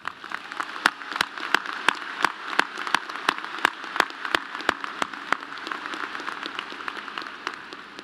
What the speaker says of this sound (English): I think you all deserve a loud round of applause.